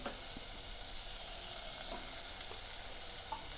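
Turmeric dropped into hot oil for a dal tempering, a steady soft sizzle and frying crackle with faint stirring ticks, close and fairly quiet, with no voices.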